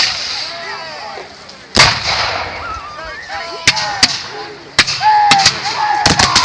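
Sharp booming blasts of cannon fire ring out at irregular intervals, several in quick succession near the end, over a busy background of shouting and battle noise.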